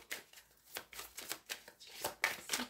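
Tarot cards shuffled by hand, a steady run of crisp riffling flicks and papery slaps repeating rhythmically, soft but close, with no talking.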